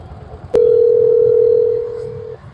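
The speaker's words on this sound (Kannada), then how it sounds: "ನೋಡೋಣ, ಕಸ್ಟಮರಿಗೆ ಕಾಲ್ ಮಾಡೋಣ." Phone calling a customer, a single steady electronic ring tone that starts abruptly, holds for nearly two seconds and then cuts off over faint background noise.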